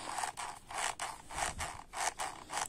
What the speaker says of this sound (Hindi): तो चलते समय यह जूती आवाज करेगी